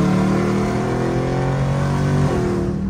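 Dodge Charger Scat Pack engine revving while driving, a loud close roar that climbs steadily, then drops sharply with a gear change near the end.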